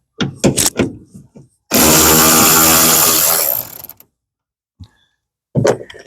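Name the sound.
Milwaukee grinder cutting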